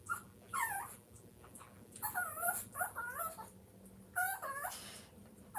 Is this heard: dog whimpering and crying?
yes